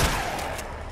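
Single loud gunshot in Resident Evil 2, a sharp blast at the very start that leaves a short noisy reverberant tail, with no voices.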